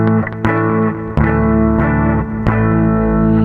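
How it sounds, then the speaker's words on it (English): A distorted electric guitar plays through the Waves GTR3 amp simulator with its chorus effect switched off. Several chords and notes are struck, held and ringing with reverb, heard alone and up close. "Sounds like I turned off the chorus kind of effect."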